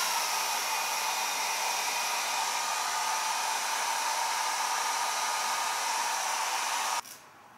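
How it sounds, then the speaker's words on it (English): A hair blow dryer runs steadily with a loud, constant whirring hiss, then switches to a quieter setting near the end. "and then back in my blow dryer"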